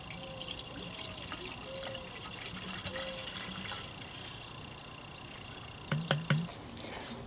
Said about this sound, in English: Now, I'm going to add the rest of my fluid to my brake bleeder kit.